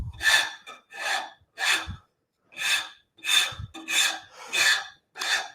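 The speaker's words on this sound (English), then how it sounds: "I'm going to take the 49 rasp and come back in here." A No. 49 rasp files wood in eight separate rough strokes at an even rhythm, each one a short, close, raspy scrape with brief pauses between.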